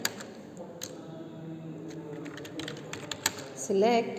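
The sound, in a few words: typing an SQL query on a computer keyboard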